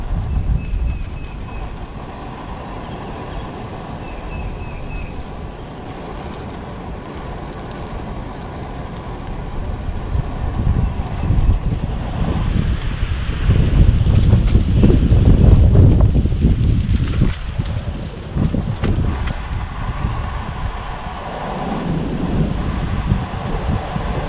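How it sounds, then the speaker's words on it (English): Wind gusts outdoors in the Ozarks, a steady low rumbling buffet against the microphone that swells louder in the middle and eases off toward the end. "That wind's blowing right through here, almost blowing the flame out."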